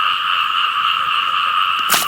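Frogs croak in a dense, constant chorus at night while frogs are being caught, a close, unbroken wall of calls, cut near the end by one short sharp click.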